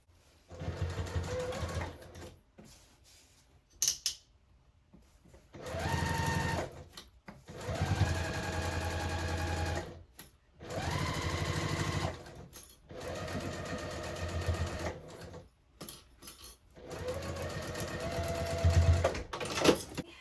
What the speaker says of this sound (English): we'll just baste that on at 1/8 of an inch seam allowance